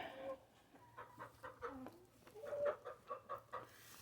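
A Cuckoo Marans hen clucks in a quiet coop, a soft, faint run of short repeated clucks and low murmurs in an uneven rhythm, with no talking.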